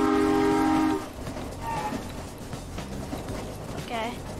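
In a video game, a train horn sounds loudly at the start, then rumbling rail noise continues with brief squeals and clatter as the train rolls past.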